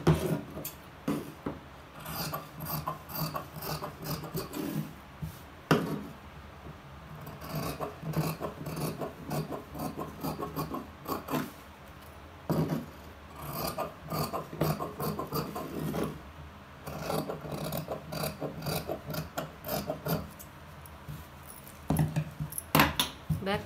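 Cutting silk and lining fabric pieces for a pavadai dress, heard as repeated close rasping snips and rubbing strokes in uneven bursts, separated by short pauses, with no talking.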